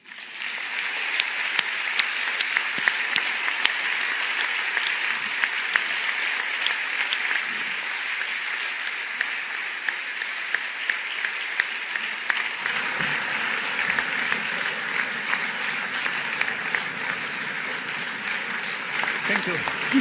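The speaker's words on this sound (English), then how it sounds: "I think a warm round of applause from everybody will finish this morning." An audience at an event with the Dalai Lama on universal human values and education gives a warm round of applause for the panelists, a sustained, dense, steady clapping from a large crowd that continues for about twenty seconds.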